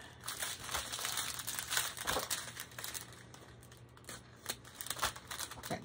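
Plastic packaging on a diamond painting kit is cut open with a sharp blade, giving quiet, close crinkling and scraping that runs on for several seconds.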